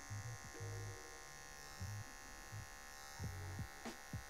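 Electric hair clipper cutting hair during a fade haircut, a faint motor hum broken by short, repeated louder buzzing bursts as the blades pass through the hair.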